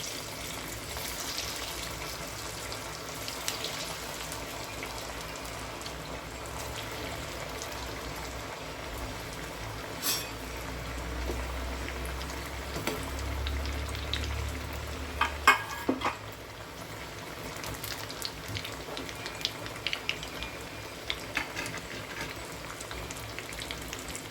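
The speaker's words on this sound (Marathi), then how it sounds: "एक एक वडी घालून आपण फ्राय करून घ्यायची।" Beetroot and carrot vadis fry one by one in hot oil with a steady, faint, rain-like crackle. A few soft clunks sound midway, and no one speaks.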